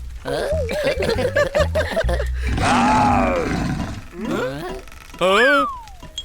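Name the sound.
lion roaring in a cartoon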